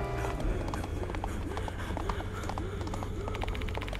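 Hooves of a galloping horse on a highway in a horror video game, a steady clip-clop rhythm running throughout over a dense, constant backdrop of game music and ambience.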